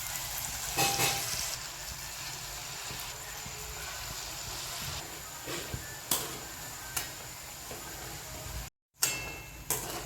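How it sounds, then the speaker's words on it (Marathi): Manchurian mixture fries in hot oil in a kadhai over a low flame, giving a steady, close sizzle broken by occasional sharp pops and a brief dropout near the end. "बारीक गॅसवर तळून घ्यायचे, फास्ट गॅसवर नाही"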